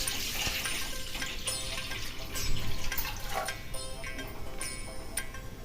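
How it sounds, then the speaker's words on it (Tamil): A little water is poured into a pan while cooking a soy chunk gravy in a home kitchen, giving a soft, steady trickle and splash at moderate volume with no talking. "தண்ணி கொஞ்சம் ஊற்றிக்கலாம்."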